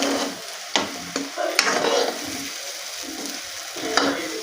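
Egg bhurji sizzles in a hot pan. A spatula scrapes and taps against the metal in irregular strokes, and the close, steady frying hiss runs underneath with no talking.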